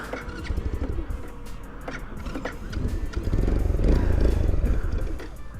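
Grom clone motorcycle engine that is low on gas, sputtering and idling roughly with uneven pops and clatter that swell midway, heard up close.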